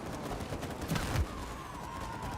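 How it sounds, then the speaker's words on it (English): A firework-like burst in a video game goes off as a quick cluster of crackling pops and a low thump with a faint whistling trail, brief and moderately quiet. "Oh, that was like a firework."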